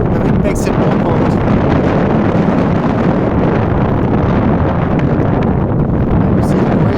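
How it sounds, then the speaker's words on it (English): Strong wind blows through the streets of Medjugorje in Bosnia and Herzegovina, a loud, constant roaring rush that batters the microphone throughout. "And you hear the wind. The wind makes it more cold."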